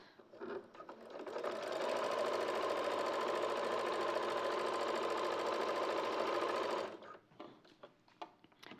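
A sewing machine stitches a boiled wool seam with a 1.5 seam allowance, running steadily and loudly for about five seconds with a dense, continuous mechanical whir before stopping, framed by brief handling noises and quiet rustles.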